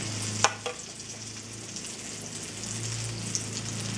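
Eggplant omelette (tortang talong) sizzling in a skillet, a steady close frying hiss with a few soft stirring or spatula clicks, no talking.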